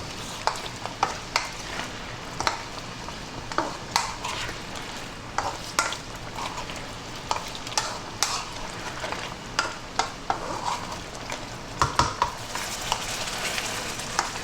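Pork ribs stir-fry over high heat in a wok with soy and oyster sauce, a constant sizzle punctuated by frequent sharp scrapes and clacks of the spatula against the metal.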